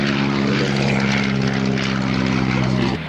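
A Curtiss P-40 propeller fighter takes off at an air show, a loud, close, steady engine roar with propeller drone that holds level before dropping away at the end.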